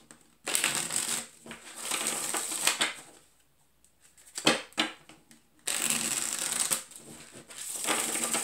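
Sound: shuffling a deck of tarot cards

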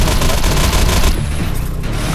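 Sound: shotgun gunfire from the video game Defiance

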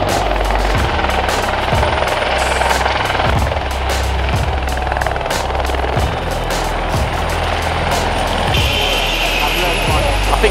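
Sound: helicopter doing a low pass flyby

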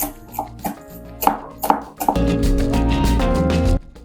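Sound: finely chopping dill and parsley with a knife

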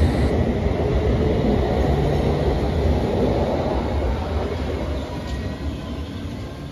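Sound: train leaving the station

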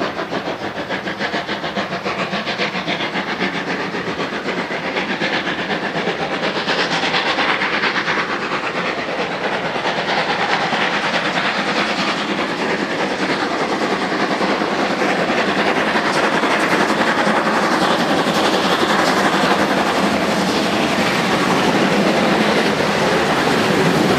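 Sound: steam locomotive 01 1100 departing Wörth station

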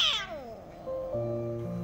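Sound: cats fighting and meowing

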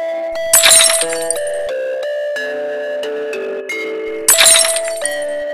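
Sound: glass breaking sound effect

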